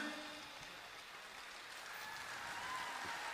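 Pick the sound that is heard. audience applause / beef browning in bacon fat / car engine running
audience applause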